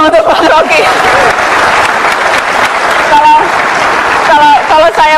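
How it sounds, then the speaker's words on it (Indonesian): A studio audience at an Indonesian talk show claps loudly and steadily for Bang Rocky, with voices and cheers mixed into the dense applause the whole way through. "Kasih tepuk tangan dong untuk Bang Rocky."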